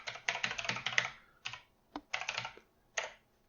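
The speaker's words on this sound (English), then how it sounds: "Personally, you'll see me type it out quite a bit" Bursts of fast typing on a computer keyboard while working in software, dense clatter of keystrokes followed by short pauses and a few isolated taps, close and clear with no voices.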